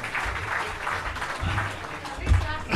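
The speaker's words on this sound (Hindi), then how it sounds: "कम से कम शायर के इस्तकबाल में थोड़ी सी तालियाँ हो जानी चाहिए।" Scattered applause from a mushaira poetry audience rises and fades over a few seconds, mixed with murmuring voices and crowd noise.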